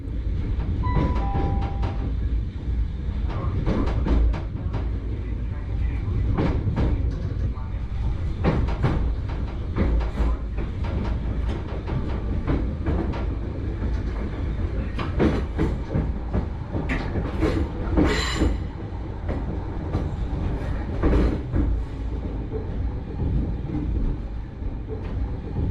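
Class 313 electric train on the Seaford to Brighton line, heard from inside the driver's cab as a steady rumbling run with rail clicks and clatter, occasional squeals and a brief tone, sustained throughout.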